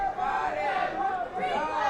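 Angry, jeering crowd at a high school mixed ultimate frisbee state semifinal, Cleveland fans shouting together in a steady, loud roar of overlapping voices for a couple of seconds.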